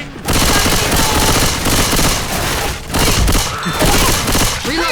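Rapid gunfire in the zombie shooter Left 4 Dead rattles in dense, loud automatic bursts that run almost without pause, with a few short gaps between volleys.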